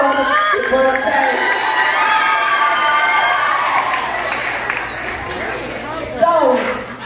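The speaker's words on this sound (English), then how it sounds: "can I get a round of applause for my brother's birthday?" Audience applauds and cheers at a birthday shout-out, with crowd noise and voices mixing over the clapping, then a brief louder burst near the end as the sound settles.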